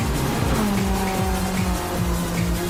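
Race cars roar through a racing video game, engines droning with rising and falling pitch sweeps as cars pass, with tire squeal mixed in; loud and continuous throughout.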